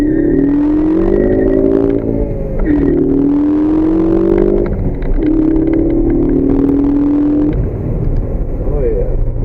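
A Ford Focus ST on an open road accelerates hard through several gears, the engine note climbing loudly, then dropping briefly at each shift before rising again, close and continuous.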